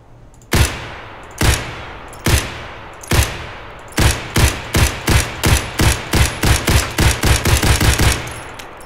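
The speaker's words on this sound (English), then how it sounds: "Real quick, we're just gonna test out the recoil of the SKS." An SKS rifle fires in Escape from Tarkov during a recoil test: loud, sharp shots, first several spaced single rounds, then a quicker steady string of about a dozen evenly paced shots, with no talking.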